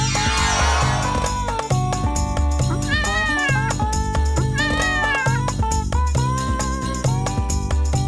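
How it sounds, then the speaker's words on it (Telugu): A cartoon cat meows repeatedly in a children's farm-animals show, its rising and falling cries sitting over loud, continuous background music with a steady beat. "చూడండి, ఇదొక పిల్లి."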